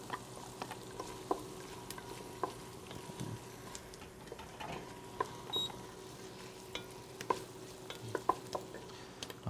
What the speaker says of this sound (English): Now I'm going to add some of my chopped garlic here.